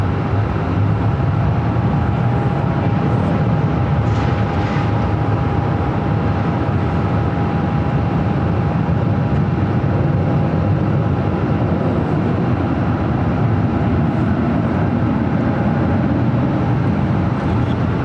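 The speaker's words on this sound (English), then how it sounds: "It's a Beach C99 airliner coming in from Lake Havasu City" A Beech C99 turboprop airliner lands at Phoenix airport, a loud, steady broadband roar with a faint constant hum running through it for the whole stretch. No voices are heard.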